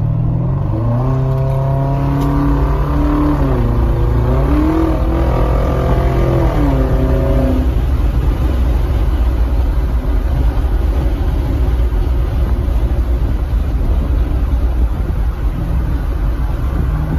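Kia K900 V8 with a straight-pipe exhaust and no mufflers or resonators, loud and close, rising and falling through revs on the highway before settling into a steady heavy drone of cruising road noise.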